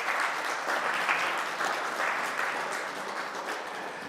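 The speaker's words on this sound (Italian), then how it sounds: "invitiamo a farsi sentire con un applauso" A school class of lower secondary students applauding in a hall, dense sustained clapping from many hands throughout, fairly near and steady.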